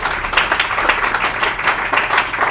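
A church congregation applauds in praise during a French-language worship service, dense rhythmic clapping from many hands, loud and close, with no talk over it.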